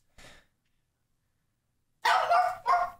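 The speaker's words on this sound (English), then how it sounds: "Whatever, she gonna bark at me." A pug barks, one short faint yip followed after a pause by two loud, close, harsh barks in quick succession.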